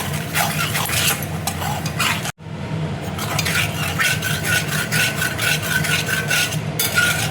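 Continuous scraping and stirring of flour frying in oil against a pan, with a soft sizzle underneath, briefly interrupted by a sharp gap, no voices.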